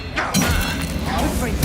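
A Confringo blasting spell explodes in Hogwarts Legacy, a loud sustained crackling blast filling the moment while a voice talks over it.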